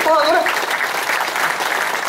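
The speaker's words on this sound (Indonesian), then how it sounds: "tepuk tangan Pak Gede" Applause for Pak Gede rises right after a brief voice at the start, a dense steady patter of many hands filling the rest of the moment at moderate loudness.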